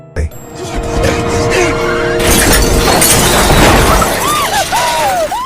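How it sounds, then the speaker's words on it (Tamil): A truck slams into a car in a movie scene, touching off a huge explosion: a sharp crash of shattering glass and metal, then a loud, sustained roaring blast with swirling tones over it. "அந்த 2 வெஹிக்கிளுமே மோதி மிகப்பெரிய வெடி விபத்து ஒண்ணு நடக்குது."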